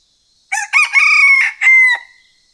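A rooster crows loudly and close by in one full cock-a-doodle-doo call of several rising and held segments, alone against quiet.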